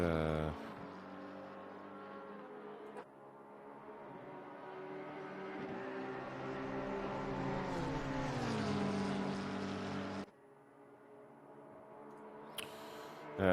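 GT race cars lapping Watkins Glen, a Lamborghini among them, engines roaring loud and steady with pitch shifting through acceleration, a sudden drop near the end, then a brief sharp burst.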